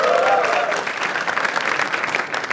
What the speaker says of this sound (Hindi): एक बार जोरदार ताली for Jaspreet Singh also.